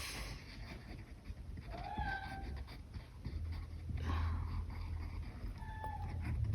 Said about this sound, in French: Et vous entendez toujours mon chat qui est pas d'accord parce qu'elle peut pas rentrer.